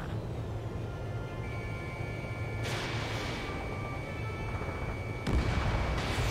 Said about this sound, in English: I almost got hit by AA fire.